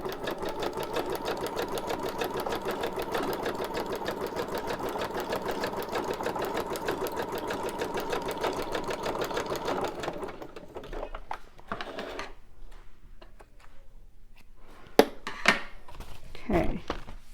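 A sewing machine stitches fabric for a junk journal in a fast, steady mechanical chatter for about ten seconds, then stops, followed by scattered handling clicks and thumps.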